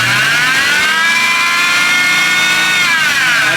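A BMW E92 M3 engine held at raised revs, a loud steady mechanical whine with rising and falling harmonic tones, close up and alone with no talk.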